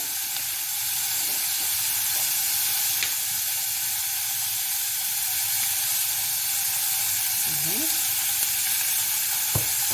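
Corn sizzles steadily in hot oil in a pan for corn in tomato sauce, a dense, continuous frying hiss with faint stirring scrapes underneath, loud and close for the whole stretch.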